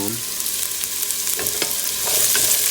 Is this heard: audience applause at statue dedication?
no